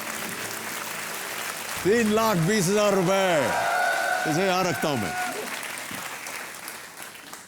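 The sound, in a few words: applause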